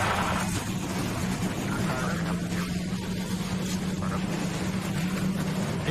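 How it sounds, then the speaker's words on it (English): NASCAR stock car engines started together at Bristol Motor Speedway for the Food City 500 keep up a loud, steady droning roar with a sustained low hum throughout. "Drivers, start your engines!"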